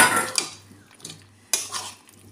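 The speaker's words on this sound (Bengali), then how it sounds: "ভেজে রাখা আলু দিয়ে ভালো করে কষিয়ে নেব।" Spatula scraping and clinking in a pan as jackfruit and potatoes are sautéed with ground spices, with a few distinct metallic strikes over a quiet low hum and no talk.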